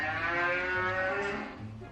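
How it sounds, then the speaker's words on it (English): A cow moos in one long, continuous call lasting about two seconds, loud and near, with no talking over it. "Cow."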